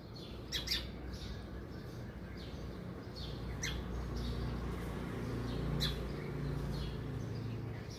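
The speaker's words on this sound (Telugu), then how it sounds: "బర్డ్ మళ్ళీ వచ్చేసింది, అరుస్తూ ఉంది." A bird calls repeatedly in the early morning, sharp squawking chirps in short bursts over steady low background noise, somewhat distant.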